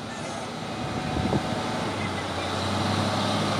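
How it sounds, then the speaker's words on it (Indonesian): An orange Fuso single-axle truck rumbles past on a road, a loud broadband roar of engine and tyres that holds steady and swells slightly as it goes by. "Truk Puso Oren pemain engkel ini,"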